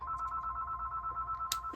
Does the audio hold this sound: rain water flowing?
no